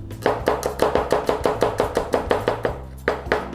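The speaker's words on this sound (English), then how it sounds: "take our onions and give them a slice in" A knife slices onions thinly on a chopping board in quick, even, close strokes, about four per second, each a crisp knock, with no voices.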